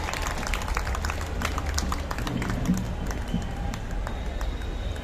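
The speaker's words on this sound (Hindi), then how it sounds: "आप जोरदार तालियों से इसका स्वागत करें।" An audience at a Hindi comedy poetry gathering at the Red Fort claps loudly and steadily to welcome the host Chirag Jain, the dense applause continuing without a break.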